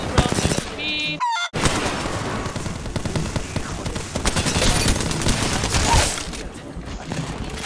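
Rapid automatic gunfire from a shooter video game battle in Apex Legends, loud and dense, bursting almost continuously for several seconds with a short silent gap early on, layered with game effects.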